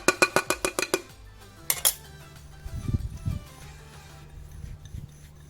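Spoon clinking repeatedly against a bowl while stirring a dry spice mix of garlic powder, sugar, pepper, Chinese five spice and salt for roast duck, a quick run of close metallic taps and then softer scraping.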